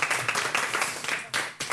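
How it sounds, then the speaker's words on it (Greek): An audience applauds at a Greek New Year's television show, with steady, dense clapping from many hands that swells in short bursts. "Χειροκρότημα, παρακαλώ."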